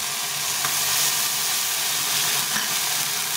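Ground ginger-cumin spice paste fries in a pan with a loud, dense, steady sizzle and steamy hiss that stays close and unbroken throughout.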